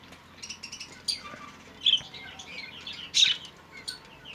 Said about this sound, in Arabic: هذا أجمل صباح، الصباح مع الطيور ومع فنجان القهوة.